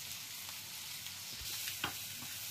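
Chopped onion softening in a pan for Punjabi kadhi pakora, a faint, steady sizzle with one or two soft stirring clicks and no voices.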